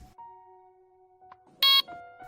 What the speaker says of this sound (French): Ce bip intervient à la fin de votre délai de sortie